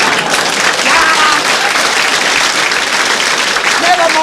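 Loud, dense applause from a television comedy show's studio audience in Australia, a continuous wash of many hands clapping at once that holds steady for the whole stretch.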